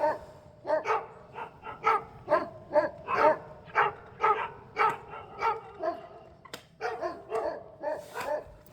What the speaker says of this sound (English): It's neighbor dogs.